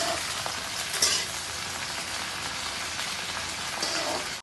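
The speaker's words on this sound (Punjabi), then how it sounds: "ਤੇ ਇਹਨੂੰ ਹਾਫ ਫਰਾਈ ਕਰਨਾ ਹੈ ਆਪਾਂ 4-5 ਮਿੰਟ ਇਹਨੂੰ ਮਤਲਬ ਪਕਾਵਾਂਗੇ ਫਰਾਈ ਕਰਾਂਗੇ" Cut okra (bhindi) half-fries in a pan, giving a steady, dense, rain-like sizzle that holds evenly throughout, with one faint knock early on and no talking.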